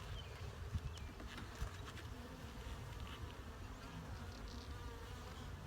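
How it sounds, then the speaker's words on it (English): Honey bees buzz at an open hive during an inspection, a dense, low droning hum with a few nearer passes standing out, quiet and continuous with no speech. "A couple of pretty big looking bees there."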